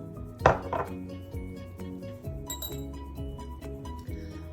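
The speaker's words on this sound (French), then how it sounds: "on va tout mélanger et on va mettre notre levure" Flour, salt, sugar and yeast are mixed in a bowl for Algerian coca dough, making light clinks and scrapes of a utensil against the bowl over steady background music.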